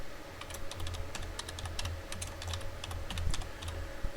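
Fingers tap quickly on a computer keyboard, a close, crisp run of irregular key clicks over a faint steady background hum.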